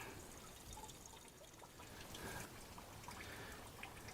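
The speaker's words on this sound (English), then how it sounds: "Dump a little bit more in it." Coolant, a 50-50 mix of concentrate and water, pours into a jug during a flush of a 1997 Ford Ranger, a steady faint trickling wash lasting several seconds with no talking.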